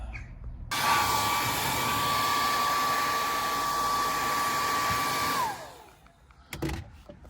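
Heat gun blowing hot air onto window tint film on a Ford Focus ST225 during tint removal, a steady loud whoosh with a high whine that cuts off near the end, followed by faint handling noises.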